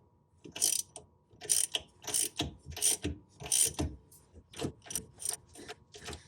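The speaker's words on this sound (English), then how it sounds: "Now use a socket to tighten that nut." A socket ratchet clicks in repeated bursts while a nut is tightened onto the pinion yoke of a Dana differential, close and loud with a steady stop-and-start rhythm and no talking.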